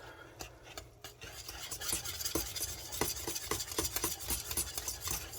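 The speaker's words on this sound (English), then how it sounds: "Whisk that in." Cheese whisked into a béchamel sauce meant for croque monsieur, a close, quick rhythmic scraping and clinking of whisk against the pan with no talk over it.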